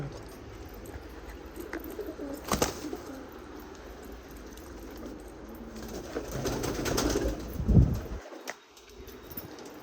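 Pigeons held in a loft coo intermittently, with soft low calls over a steady background and a brief flutter near the end, no talk.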